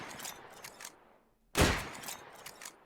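Sharp gunshots ring out from a custom Minecraft gun mod (Just Enough Guns), a quick cluster of cracks, a brief lull, then one loud blast followed by a few more shots.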